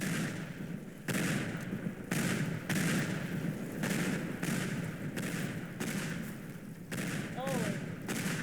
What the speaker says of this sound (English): The main base just got bombed.